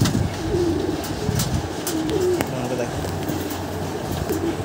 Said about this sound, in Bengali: এই হচ্ছে ওই সবুজ নরেরই জেনারেশনের পায়রা